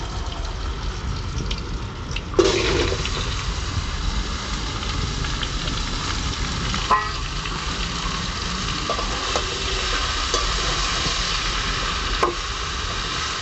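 Chopped bottle gourd hits hot oil with bay leaf, cumin and chilli in a pan, bringing a clatter and then a loud, dense, continuous sizzle with a few faint taps.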